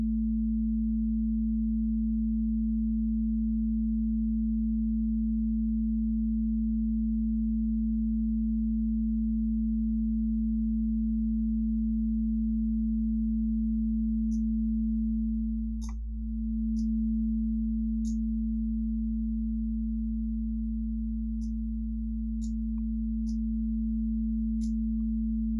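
A synthesized sine wave bass from VCV Rack hums as one steady, loud low tone with a gentle tremolo wobble, joined by faint, sparse high blips in the second half.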